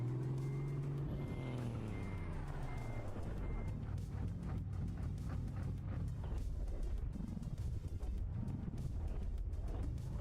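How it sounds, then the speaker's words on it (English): In a truck-driving video game, a truck engine labours low and uneven as if about to stall, with reversing beeps sounding over it and a faint hiss of air brakes, continuous and fairly close. "Gosh, that truck almost sounds like it's gonna stall."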